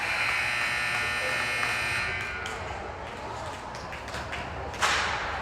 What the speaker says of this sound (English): There goes the buzzer on a tie game.